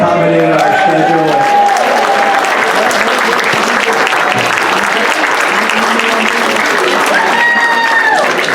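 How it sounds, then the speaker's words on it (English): Loud, sustained applause from a crowd at a volunteer appreciation breakfast, many hands clapping steadily and filling the room for the whole stretch, with no break. "have a second round of applause for the servers that kind of accommodated our schedule"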